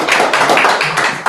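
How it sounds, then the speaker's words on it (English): Several quick hand claps in a loose rhythm, close and fairly loud. "Don't give me another hand clap."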